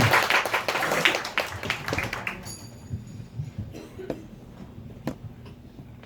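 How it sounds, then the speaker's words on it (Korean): A burst of audience clapping that thins out after a couple of seconds into scattered, isolated claps. "마리슈를 많이 저도 응원하고 옆에서 지켜보는 가운데서 다 같이 좀 박수 좀 같이 쳐줬으면 좋겠어요."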